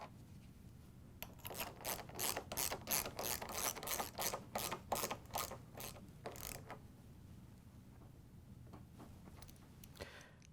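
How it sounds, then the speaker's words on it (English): A ratchet driving a 5/16 inch socket tightens hinge bolts on a GE dishwasher lower cam riser, giving rapid bursts of close, sharp clicking strokes that fade into quiet after about seven seconds. "we're going to use the 5/16" socket with the ratchet to tighten them down"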